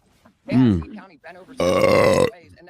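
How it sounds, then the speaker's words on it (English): A person lets out a long, loud, rumbling burp close to the microphone, with short bits of talk before it and after it. "That burp was so keno."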